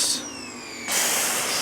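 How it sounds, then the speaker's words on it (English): A small, cheap power washer forces degreaser foam through a foam cannon, a close, steady spray hiss that drops briefly and then surges back to full strength. "Hook that to your really cheesy little power washer, and you get this"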